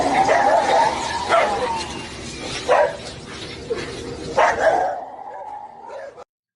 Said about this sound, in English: Those barking dogs sound clips that were added in on top of the video.